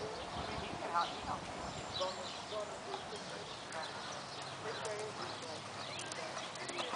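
Horses cantering in a show ring at a charity horse show in Canfield, Ohio, with soft, distant rhythmic hoof clip-clops under faint background voices, an announcer and occasional bird calls.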